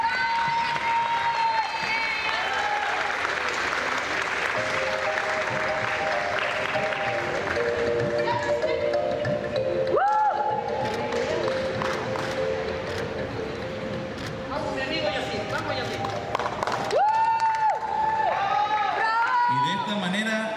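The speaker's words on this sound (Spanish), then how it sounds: "Un fuerte aplauso para todos nuestros estudiantes de sexto grado" Sustained crowd applause for sixth-grade students at a school ceremony in Maracaibo, steady and loud throughout, with voices and chatter mixed in.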